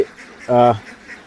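A single short, loud, buzzy quack from a duck, alone against a quiet background.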